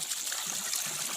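A natural stream trickles steadily near a remote hill village in Ekeshwar, Garhwal, a soft continuous wash of running water with no voices.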